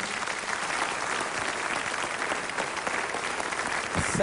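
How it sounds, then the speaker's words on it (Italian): A studio audience at a television broadcast applauds a band that has just performed, a sustained wash of many hands clapping at moderate loudness, steady throughout. "applauso per il gruppo che ha aperto la nostra trasmissione."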